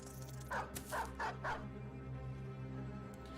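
A small dog barks four times in quick, evenly spaced yips over a steady, humming background in the video game Battle Brothers, then the barking stops and only the background continues.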